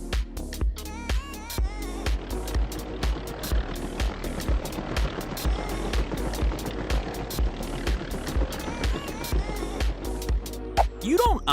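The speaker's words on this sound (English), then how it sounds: "The very definition of a low-flying chopper." A low-flying helicopter thuds past close overhead, its rotor producing a fast, steady pulsing chop that stays loud throughout, with a few brief higher tones near the end.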